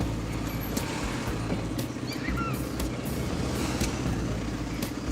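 Rush-hour road traffic near Païta, a steady, fairly loud wash of passing cars and engine rumble with occasional higher hisses and no talk.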